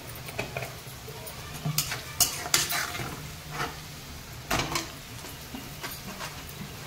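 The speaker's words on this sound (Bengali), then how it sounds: "কাঁঠালের বিচিগুলো দিয়ে দিলাম। আমি মেখে নেব।" Jackfruit seeds are mixed by hand with cumin, coriander and black pepper in a bowl, giving scattered close scrapes, clinks of utensils and soft rustling bursts with gaps of quiet between.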